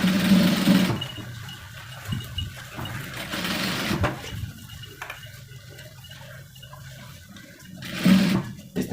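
A sewing machine runs in bursts while stitching a belt loop onto trousers, loud motor whir at the start, around four seconds and near the end, with quieter handling sounds between.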